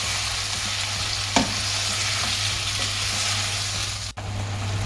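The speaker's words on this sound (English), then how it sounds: "Let the tomatoes cook till they are soft and mushy." Chopped tomatoes simmer and sizzle steadily in a pan for arrabbiata sauce, a continuous close frying hiss with a brief stir or clink partway through.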